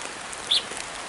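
Heavy rain during a storm, a dense, steady hiss that continues throughout, with one brief, brighter chirp-like sound partway through and no speech.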